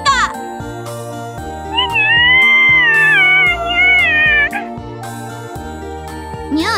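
A cat meows in an animated comedy scene, a drawn-out wavering mew rising over a busy musical backdrop with chimes and tinkling tones, loud and close, bracketed by brief voiced sounds.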